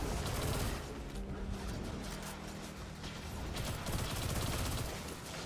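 Grenade launcher and SMG fire in a shooter video game, a dense rattling stream of rapid shots with mechanical clatter, loud and close, running steadily for a few seconds with no talk.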